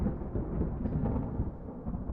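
A thunderstorm with rain, a steady dense low rumble of rain and distant thunder rolling continuously at moderate level, no voices.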